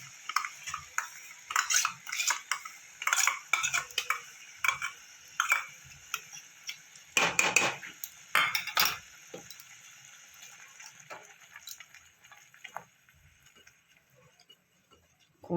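A utensil taps and scrapes in a pan as spice paste and whisked curd are stirred slowly over low heat for aloo dum, irregular clinks and soft scrapes that come in clusters and then thin out.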